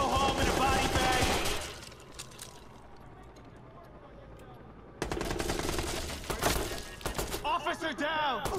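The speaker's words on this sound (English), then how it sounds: "I'm shooting up people." Bursts of gunfire in Watch Dogs, rapid automatic shots at the start and again in the final seconds, with a quieter stretch between and game voices mixed in.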